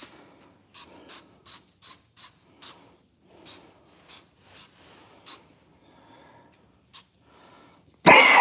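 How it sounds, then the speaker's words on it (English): A person coughs repeatedly from spray fumes, about a dozen short, sharp, fairly close coughs in an irregular rhythm, followed by a sudden loud burst at the end. "This stuff makes me cough."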